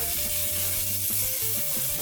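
Smash burgers sizzle in a large frying pan with a steady, dense hiss and crackle, loud and continuous, along with a low tonal hum and no talking.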